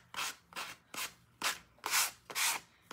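Sandpaper rubbed over a tin can to rough up its surface for vinyl, seven rhythmic close strokes about half a second apart, each a loud scratchy burst with brief pauses between.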